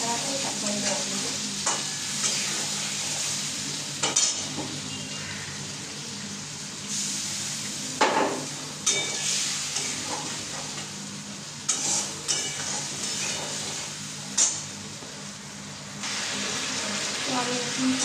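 Turmeric, chili powder and salt fry in hot mustard oil with a continuous close sizzle, broken by repeated scraping stirs of a utensil against the pan, louder bursts recurring throughout.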